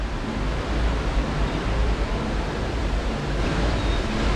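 Waterfall in the Moji River Valley near Ubud, Bali, pouring in a steady, dense roar of rushing water that fills the scene without pause, with no voices.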